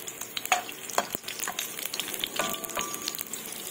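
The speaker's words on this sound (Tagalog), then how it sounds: "Ilagay natin ang ating bawang." Garlic frying in a pan, a steady close sizzle with occasional stirring scrapes and clicks of a utensil against the pan, no voices.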